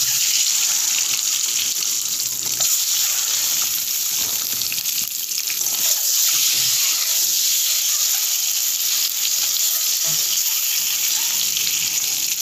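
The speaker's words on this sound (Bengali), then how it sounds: "এবারে দিচ্ছে ডিম, ডিমগুলোকে হালকা হালকা করে ভেজে নেবে।" Eggs frying in oil with turmeric give off a steady, bright sizzling hiss that runs unbroken and fairly loud from start to finish, with no voices over it.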